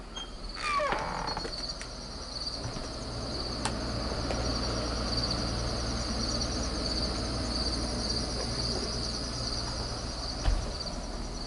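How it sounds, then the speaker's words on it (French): Outdoor crickets chirp in a steady high-pitched trill that continues without a break, moderately loud over a low background hum, with a brief knock early on and no speech. "On va entendre les criquets."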